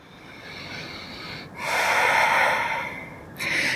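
Audible breathing during a yoga class, a long slow inhale through the nose followed by a stronger, breathy exhale, close-miked with no speech over it.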